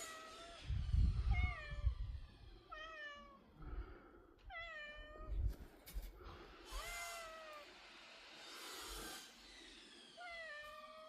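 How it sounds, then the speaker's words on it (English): A kitten meows again and again outdoors at an allotment: high, bending cries come in a loose rhythm, close and clear, between low thumping handling noises. "Kitten."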